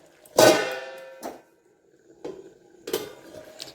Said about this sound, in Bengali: ঢাকাটা খুলে দেখবো এবার